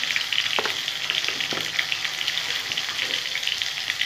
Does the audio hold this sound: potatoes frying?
yes